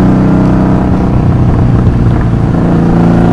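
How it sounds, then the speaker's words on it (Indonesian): A 1984 Honda Magna 750cc V-twin motorcycle engine runs loud and close, holding a steady, deep rumble throughout with no talking. "Yes, motor ini adalah Honda Magna"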